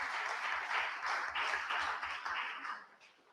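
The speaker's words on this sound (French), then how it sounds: "Il y a des très vifs applaudissements." An audience at a media and terrorism conference panel applauds warmly, dense sustained clapping from a crowd that tapers off at the end, with no speech over it.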